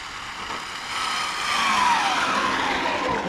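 Arrma Limitless RC car streaks past at around 172 mph: a thin, high electric whine rises to a peak, then drops sharply in pitch as it shoots by and fades into the distance.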